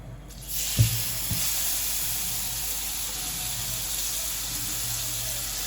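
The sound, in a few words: chopped chikoo roasting in ghee in a pan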